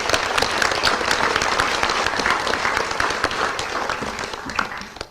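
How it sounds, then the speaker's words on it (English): An audience at a state education report card event applauds steadily, with dense, loud clapping that gradually tapers off toward the end. "that deserves a round of applause, too."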